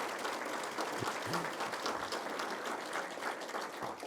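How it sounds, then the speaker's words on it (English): Banquet audience at a university alumni awards evening gives a round of applause, a continuous dense roll of clapping from many hands in a large room, fairly even throughout. "Let's give that a round of applause, please"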